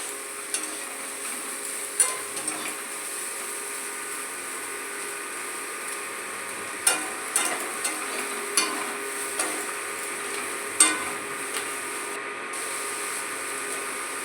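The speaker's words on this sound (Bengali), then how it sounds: "এমনিতে সেদ্ধ করাই আছে, তার মধ্যে আমি তেল দিয়ে সম্পূর্ণটাই ভেজে নিচ্ছি।" Boiled vegetables fry in oil in a pan, giving a steady hiss with occasional sharp clicks and spatters of a utensil stirring, close and continuous.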